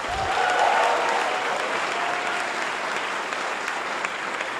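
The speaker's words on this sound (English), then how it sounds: "Can we give this place a round of applause?" Theater audience at a Colorado theater awards evening inside the Lone Tree Arts Center breaks into sustained, dense applause, steady and loud throughout with no voices on top.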